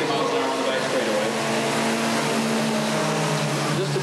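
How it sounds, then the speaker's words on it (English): Mini stock race cars at Redwood Acres Raceway drone past in a continuous engine roar with steady tonal whine, loud and sustained, while a commentator talks over it. "Top speed of these cars, I would guess these cars are probably hitting about 60 miles an hour, maybe on the back straightaway"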